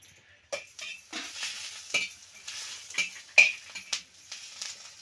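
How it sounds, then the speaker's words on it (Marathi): Onion frying in a pan, giving a light sizzle broken by repeated clinks and scrapes of a spatula or spoon against the pan, close by and moderately loud, with no talk. "कांदा टाकलाय भाजायला"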